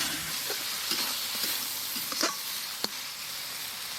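Ground spices (coriander, cumin, chili, turmeric) and salt frying in mustard oil for a small fish and jackfruit curry, a steady sizzle with scraping stir strokes and a few sharp clinks against the pan.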